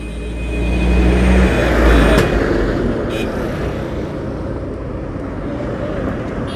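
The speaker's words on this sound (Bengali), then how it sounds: "পেছনে একটা বাস আসছে, বাসটা বেরিয়ে যাক।" A bus approaches from behind and passes a roadside rider halted with a Yamaha FZX motorcycle, its heavy engine rumble swelling loud and near, then easing into a steady, fading roar.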